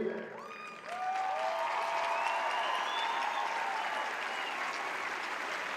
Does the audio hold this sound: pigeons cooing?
no